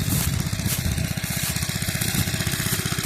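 A small irrigation pump engine runs steadily in an open field beside potato plots, a close, loud, evenly pulsing mechanical chug with no voices.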